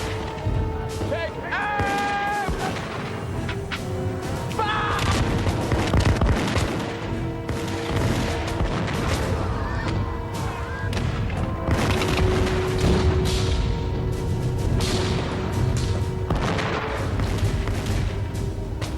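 Battle gunfire and artillery from British guns in a Revolutionary War engagement with George Washington, heard as repeated booms and sharp cracks in irregular bursts beneath continuous narration.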